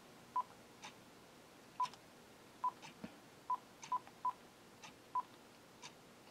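A Uniden DECT1560 cordless phone beeps about eight times as its buttons are pressed, each short single tone at the same pitch arriving at irregular intervals, soft clicks between them, close and clear with no speech.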